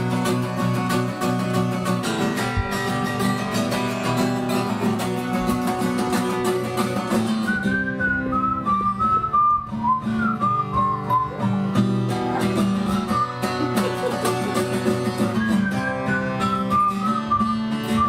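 A man whistles a melodic tune over live acoustic band accompaniment during a folk-rock set at The Living Room at 35 East, the whistled line rising clearly above steady guitar and rhythm in the second half.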